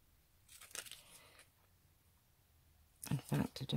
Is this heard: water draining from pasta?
no